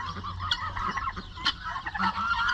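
Guinea fowl on a small farm, including pied, blonde, French pearl and lavender birds, give harsh repeated honking calls that overlap in quick bursts at moderate distance.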